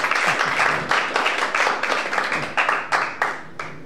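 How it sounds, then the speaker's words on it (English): Audience applause at a live band concert in Cardiff: a dense, sustained wash of clapping that swells in waves and stays loud and close throughout, with no talk over it. "Can we have a round of applause for Andrew?"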